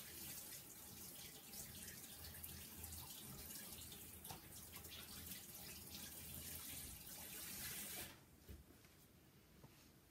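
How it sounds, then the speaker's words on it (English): A steady stream of tap water runs over a chalk transfer being rinsed in a sink, a constant close splashing hiss that stops abruptly near the end, leaving faint dripping. "I'm just going to rinse it off real quick."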